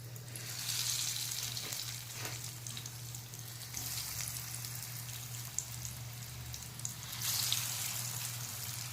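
Veg cutlet tikkis frying in hot oil in a pan, a steady close sizzle with crackling bursts and a low hum underneath, swelling louder near the start and again toward the end.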